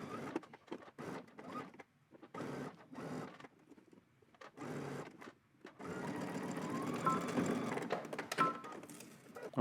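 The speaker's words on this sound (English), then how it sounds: "we're going to head to the machine, and we're just going to stitch from the top to the bottom" A sewing machine stitches a seam on drop-crotch pants in short stop-start bursts, then settles into a longer continuous run near the end, fairly quiet and close.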